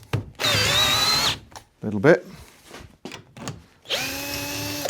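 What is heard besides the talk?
power drill undoing a bolt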